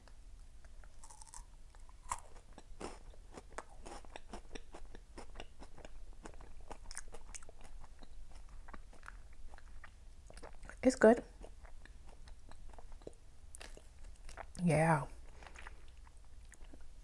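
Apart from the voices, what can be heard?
chewing and biting a crunchy churro snack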